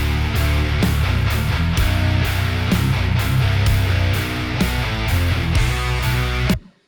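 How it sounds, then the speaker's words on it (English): A simple bluesy riff plays in a heavy mix of guitars, bass and drums: dense, loud and steady with a regular pulsing beat for several seconds before it cuts off abruptly to silence. "So that's a very simple kind of bluesy riff that I just recorded to have something to actually mix."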